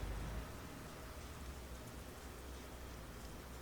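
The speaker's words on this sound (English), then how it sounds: "So let's have a bit of rain while we're driving along." Rain falls steadily while a truck drives along in Euro Truck Simulator 2, a soft, even hiss of drops on the surface with the low rumble of the cab underneath and no speech.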